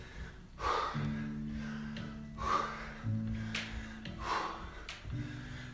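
Heavy breathing after a cardio workout: several loud gasping inhales and exhales in a steady rhythm, close to the mic, over a faint sustained tonal background.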